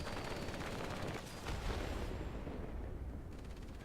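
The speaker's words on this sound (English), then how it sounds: "Drop a bomb here and destroy that section." A bomb drop and explosion in the IL-2 flight simulator game, a dense, rumbling blast wash that swells around the middle and then thins into a steady background roar.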